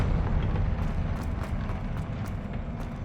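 A Confringo fire spell blasts in Hogwarts Legacy as a dense, rumbling roar that holds for the whole stretch, with a few crackling bursts riding on top.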